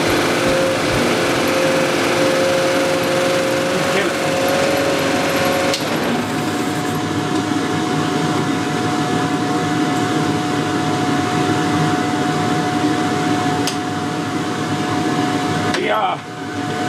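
A Yamaha 9.9 four-stroke outboard motor runs at a steady idle, loud and continuous, with a constant engine drone throughout and a brief dip near the end.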